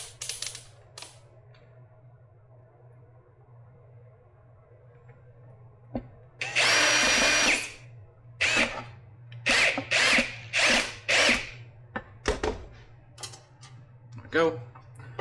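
A cordless power drill driving screws while a battery pack is taken apart, heard as a long whirring burst followed by several short rapid bursts, close and loud with a few clicks and small handling knocks between.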